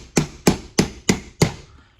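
Five sharp mallet taps, evenly spaced and close up, drive a fitting onto a Rolly Premium John Deere toy tractor loader, each strike ringing briefly before the next.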